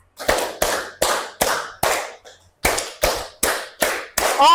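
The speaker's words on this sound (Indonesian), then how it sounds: "Okay, 5 claps. Twice 5 claps." Students in a high-school classroom clap their hands in unison, two rhythmic bursts of five sharp claps each separated by a short pause, loud and close with no talk.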